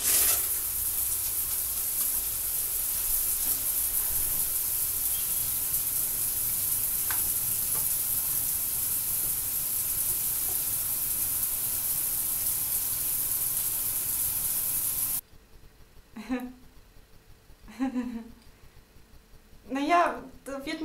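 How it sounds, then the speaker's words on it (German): Steady broadband water spray of a running shower fills the first fifteen seconds, loud and continuous, then cuts off abruptly, leaving quiet room tone with brief bursts of speech. "Du, ich gehe jetzt eben duschen."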